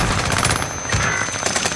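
Rapid video game gunfire on the Caldera map, close crackling bursts running through a brief moment with no talking.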